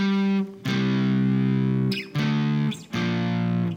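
Distorted electric guitar playing three chunky two-string power chords from a song, each held for about a second with short gaps between, loud and close.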